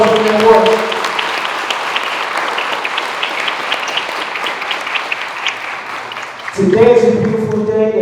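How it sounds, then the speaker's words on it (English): A crowd at a Freeway Day community celebration in Philadelphia applauds two men for their community work, a steady, loud wash of clapping that runs for several seconds, with someone speaking briefly before it and again as it fades. "Make a round of applause for the brothers for their work."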